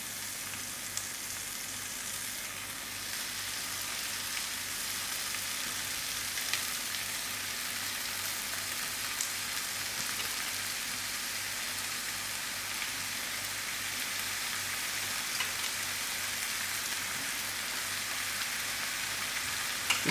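Oyster mushrooms fry with onions in a pan, giving a constant close sizzle like steady rain that holds evenly throughout, with faint occasional ticks and no voices.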